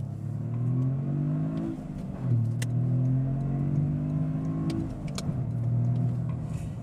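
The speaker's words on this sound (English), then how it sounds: "So we'll do a little acceleration pull" A car engine revs hard through repeated acceleration pulls, pitch climbing and dropping between gear changes, with a loud, close exhaust note throughout.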